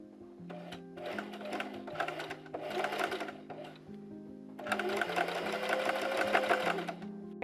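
A sewing machine stitches bias tape onto a dress in several bursts, fast rhythmic whirring runs separated by short pauses, with a longer continuous run at the end. It is close and fairly quiet.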